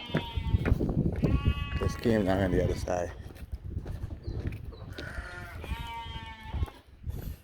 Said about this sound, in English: So all the goats are on this side.